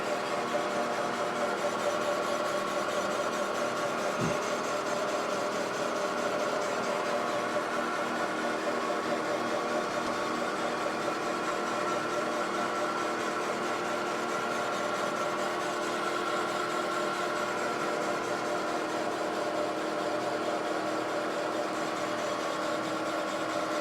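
A 1982 Yamaha IT 175 two-stroke cylinder being bored on a machine, a steady continuous grinding hum of the cutter working around the bore, even and unbroken with a couple of faint knocks.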